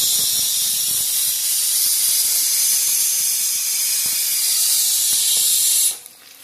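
Chicken for a Kannur-style country chicken chilli fries in hot oil, a loud, steady steaming hiss and sizzle that runs close and unbroken before cutting off abruptly near the end.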